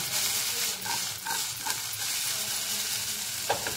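Okra bhaji stirred in an uncovered pan, with a steady sizzle of frying under repeated spoon scrapes and turns, close and fairly loud throughout.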